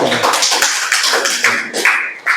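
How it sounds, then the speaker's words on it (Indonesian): A classroom group of teacher-training students applauds a student group, dense clapping from several people, fairly loud and close, with a brief swell near the end and no talk over it. "Tepuk tangan untuk kelompok"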